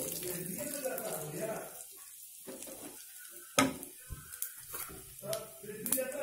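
Cumin and fenugreek seeds hit a hot frying pan, giving a bright hissing sizzle that fades, then scattered sharp crackles and pops, with someone talking over it.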